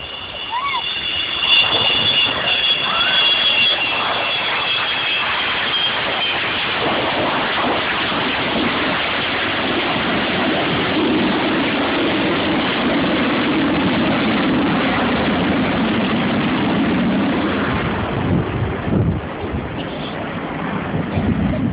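An Avro Vulcan bomber makes a wheels-down go-round at the RIAT 2011 airshow, producing a loud, steady broadband jet roar that fills the whole stretch and swells slightly midway.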